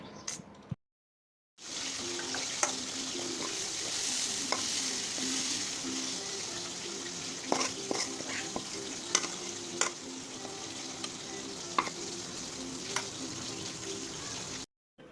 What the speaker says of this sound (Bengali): এখন ভালো মতো নেড়ে চেড়ে পানিটা শুকিয়ে ভালো মতো ভেজে দেন